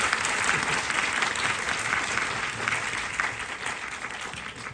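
An audience at a film press event breaks into sustained applause, a dense, even wash of clapping from many hands that lasts several seconds and tapers slightly toward the end.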